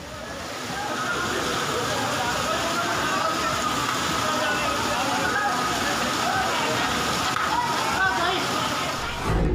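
Floodwater from heavy rain rushes through a market street in a steady, loud, broadband wash of churning and splashing that holds from start to finish.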